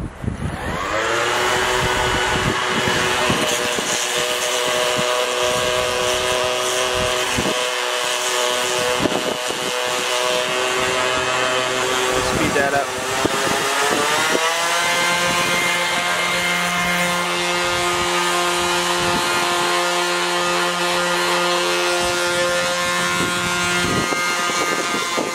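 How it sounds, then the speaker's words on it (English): An orbital sander with 40-grit paper works the edge of piano wood, a loud, steady motor whine that runs throughout with slight shifts in pitch as the pressure changes. "I'm just gonna use the orbital just to clean up that edge. So I'm just using some 40 grit on the orbital."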